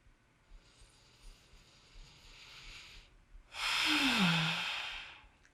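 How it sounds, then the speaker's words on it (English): Someone doing a self-massage and stretching routine takes one full breath, a soft drawn-in inhale followed by a louder, longer exhale that trails off. It sounds close and quiet, with no talking. "Take a full breath in and out."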